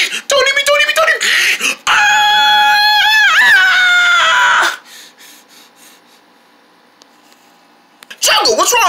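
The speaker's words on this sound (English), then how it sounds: "We heard you screaming to death." A person screams in high, wavering, strained cries that come in loud bursts, then cut to a near-silent stretch before another sharp outburst at the end.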